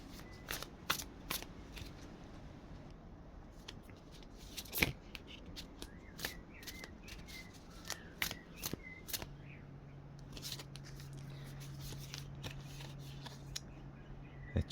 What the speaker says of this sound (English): I will pull a card to go further into this.